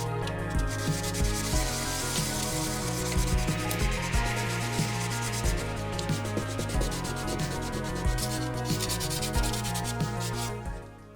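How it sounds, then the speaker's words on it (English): Wet sanding a 3D-printed blaster with 600 grit sandpaper makes a steady rhythmic rubbing scratch, close and continuous, with fast back-and-forth strokes and no talking. "Very quick and easy wet sanding,"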